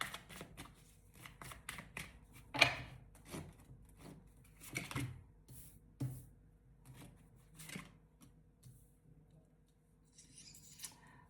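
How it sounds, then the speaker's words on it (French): Tarot cards are shuffled and drawn from a deck, giving a sequence of soft flicks, slides and papery snaps at an irregular pace, close and quiet, with no talk. "on va aller prendre juste une ou deux cartes pour le lien"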